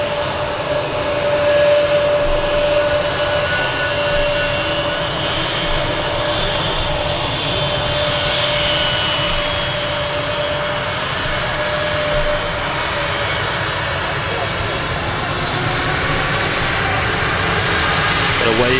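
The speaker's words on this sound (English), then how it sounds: "Love the sound of these engines." Aircraft engines roar at Manchester Airport, a sustained loud jet-engine drone with a steady high whine that holds for nearly twenty seconds, with faint talk in the background.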